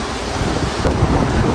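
Strong wind roars across the bow deck of a Norwegian cruise ship on the Mediterranean, buffeting the microphone in a loud, continuous rush with no talking.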